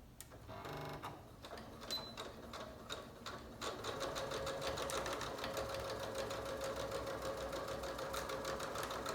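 A home sewing machine stitches along a pajama pant leg seam, starting with a few soft clicks and then running as a steady, fairly quiet whir.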